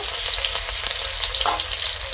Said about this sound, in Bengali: তেল রসুন মরিচ ভাজা হয়ে গেছে